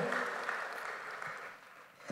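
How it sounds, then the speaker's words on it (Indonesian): A church congregation applauds during a worship service, a soft, continuous rush of many hands clapping heard at a distance. "Tepuk tangannya boleh yang paling meriah buat Yesus Tuhan kita."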